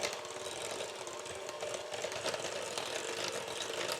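An electric hand mixer beats butter and sugar for a pound cake batter, a steady close whirring motor hum with a rapid rattling texture that runs without pause.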